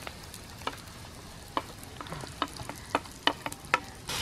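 Onions sizzle in a pan with ginger and garlic as the base of a Kerala-style mutton curry, with a steady frying hiss broken by occasional stirring clinks and scrapes.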